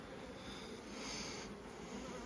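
Dense, low buzzing of a crowd of honeybees in an open hive, a faint steady hum heard close up with no talking.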